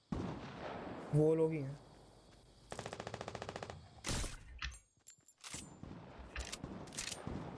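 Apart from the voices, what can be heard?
gunfire from enemies in Fortnite video game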